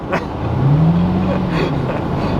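Lamborghini Countach supercar engine, about 15,000 km on it, giving a rising rev that swells and holds as a loud, close drone from inside the car.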